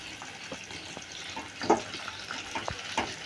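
Meat frying in a pan as it is stirred, a quiet sizzle with scattered scrapes and taps of a spoon, close by and alone without voices.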